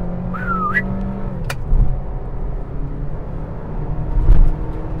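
A new Suzuki Vitara held at 4000 rpm in third gear at about 100 km/h gives a steady engine drone inside the cabin, with a brief electronic warning chime near the start and low road rumble underneath.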